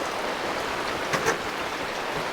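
Light rain falls at a campsite, a steady even hiss of drops on surfaces all around with one or two slightly louder close patters, no voices.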